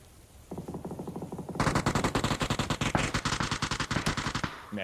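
Rapid gunfire in the battle royale game PUBG, a burst of shots followed by a denser sustained volley of automatic fire with a loud grenade-like blast near the end, close and loud.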